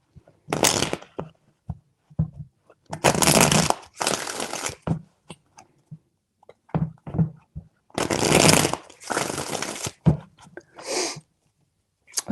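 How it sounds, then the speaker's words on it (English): Tarot cards shuffled by hand in three separate bursts of riffling, each a dense papery flutter lasting a second or two, with soft taps and handling noises between them, close and fairly loud. "3 shuffles."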